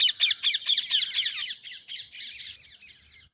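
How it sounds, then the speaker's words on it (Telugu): A flurry of loud, harsh parakeet squawks at dusk, rapid and overlapping, gradually thinning out and fading. "రామచిలుకల సవ్వడి"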